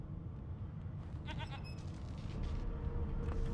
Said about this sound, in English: I hear a sheep somewhere